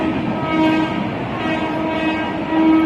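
A passenger train rumbles past with a steady low roar while its horn sounds in several short blasts, fairly close and loud.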